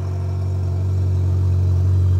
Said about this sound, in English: As you can hear, the exhaust is broken,